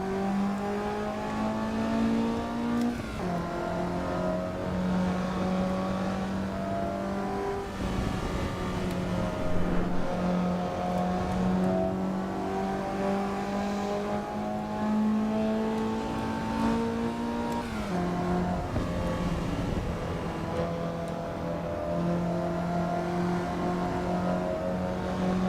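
A race car in Assetto Corsa EVO revs hard and steadily, its engine note climbing through the gears with sharp drops at each upshift, loud and close throughout, with no voices.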